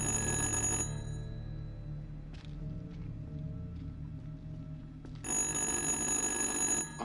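A telephone rings in the horror video game Little Hope, a loud repeated electronic bell that sounds at the start, drops away through a quieter stretch of game ambience, then rings again near the end.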